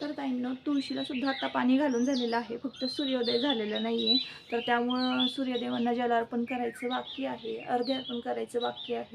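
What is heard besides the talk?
birds chirping at dawn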